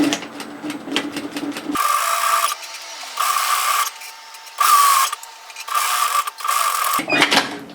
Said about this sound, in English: And I'm going to sew a second row of stitches parallel to the first